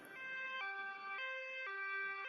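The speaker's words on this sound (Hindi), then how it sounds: "एम्बुलेंस लाडो को लेकर अस्पताल की तरफ निकल पड़ती है।" A cartoon ambulance siren wails in a steady two-tone hi-lo pattern, loud and close, switching pitch about every half second with no voices.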